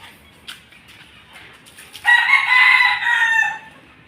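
A white Kelso gamefowl rooster lets out a loud, close crow lasting about a second and a half, after a few faint clucks and rustles.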